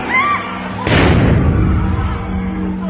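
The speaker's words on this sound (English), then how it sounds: "Israeli police fire stun grenades to disperse" Israeli police fire a stun grenade to disperse worshippers in the Al-Aqsa Mosque compound, giving one sharp, loud blast that fades into a rumbling echo against a humming background.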